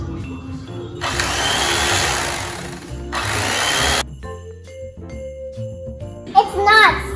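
Electric mixer whirring through thick sugar icing for a gingerbread house, with two sustained bursts of broadband motor noise stopping and starting, followed by a quieter tone and a voice near the end.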